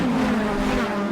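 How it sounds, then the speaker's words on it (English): Honda Civic Cup race cars at Snetterton roar past the pit wall, a loud close engine howl that swells and slightly drops in pitch as they pass, brief and continuous with no voices. "I put the sound of those cars from my pit wall camera"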